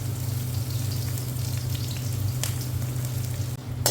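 Chopped green chillies frying in a hot pan while making Chinese chicken noodles, a steady close crackling sizzle with a low hum underneath and a brief louder spatter near the end.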